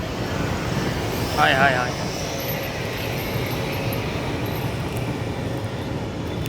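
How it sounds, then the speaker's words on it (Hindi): A diesel locomotive hauls a MEMU train past on an Indian railway line, making a continuous, heavy rolling rumble. A man briefly exclaims over the noise. "और भाई यहाँ पे देखिए भाई डीजल लोको"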